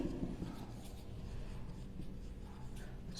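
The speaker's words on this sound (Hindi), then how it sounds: "चलिए मैं ब्लैक से लिख देती हूँ," Marker or chalk scratches and rubs on a board during a chemistry lesson, a run of close strokes and taps with a quiet room hum behind them.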